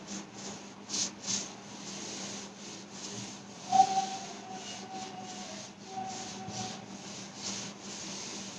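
Repeated rubbing strokes of a duster wiping a question off a classroom board, rhythmic soft scrapes at a near distance with a faint squeak partway through.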